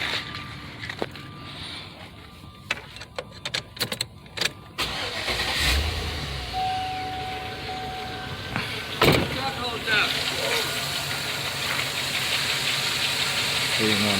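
Chevy pickup truck with a 5.3 Vortec V8 starting up and then running at a steady idle, loud and close, with brief talk before the engine catches.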